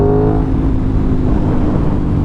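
A 2021 Aprilia RS660 motorcycle engine revs loud and close, a throaty tone that holds steady and fades slightly over a couple of seconds, with no talk.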